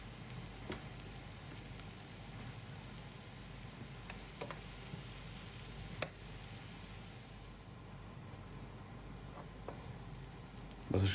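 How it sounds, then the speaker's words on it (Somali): Onion and garlic frying in butter in a pan, a faint continuous crackling sizzle with occasional small pops, steady and without talk. "markaan basasha iyo toonta isku shiilo"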